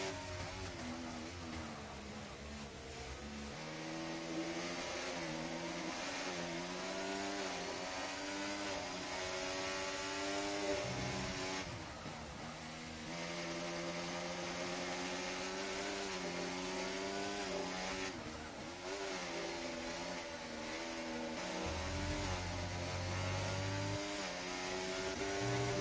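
Racing car engines, among them a McLaren, drone through a sim race at Austria. A steady, harmonic engine whine rises and falls through gear changes, loud and continuous, with another car briefly passing close.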